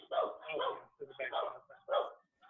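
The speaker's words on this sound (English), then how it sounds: "Who's this dog in my studio?" A dog barks in a studio in a few short bursts, close to the microphone, while people talk.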